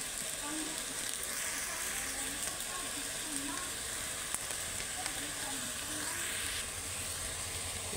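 Turmeric, cumin and coriander powders sizzling in a pan of jackfruit curry, a steady broadband frying hiss that holds at an even level throughout with a few faint scrapes of stirring.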